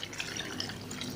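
Water is poured onto halved tomatoes in a kitchen, a soft continuous splashing trickle, close and steady throughout the short moment with no talking.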